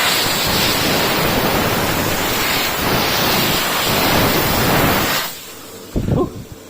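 Kärcher steam cleaner working on a Mazda car: a loud, steady, broad hiss that runs for about five seconds, then cuts off and leaves a few faint knocks.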